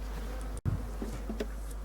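A honey bee swarm buzzing with a steady low drone, close by, with a brief dropout partway through.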